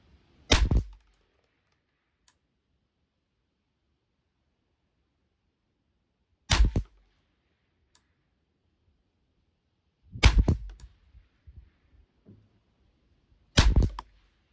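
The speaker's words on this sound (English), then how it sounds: "10-shot group on the bottom diamond, aiming at center" Four sharp, isolated shots from a .22 semi-auto rifle, a Bergara BXR or Ruger 10/22 Target Lite, firing Eley ammunition at a 50-yard benchrest, spaced several seconds apart with quiet between.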